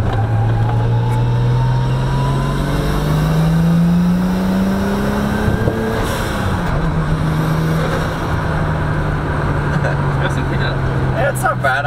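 A Skyline-engined truck, running stock boost and fitted with an RV body, accelerates hard in a pull, its engine note rising steadily and loudly, dipping briefly at a shift, then climbing again close to the microphone.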